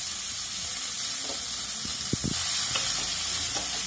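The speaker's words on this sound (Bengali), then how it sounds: "এবার আমি পেঁয়াজটা একটু ব্রাউন হওয়া পর্যন্ত ভাজতে থাকবো।" Chopped medium onions fry in a pan, making a steady close sizzle with a few soft stirring knocks and scrapes, and no voices.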